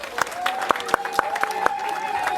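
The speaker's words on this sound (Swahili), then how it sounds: "Makofi tatu ya Geoffrey." Three rounds of rhythmic crowd clapping at a Kenyan dowry ceremony, sharp evenly spaced claps in unison over a sustained tone and light background chatter.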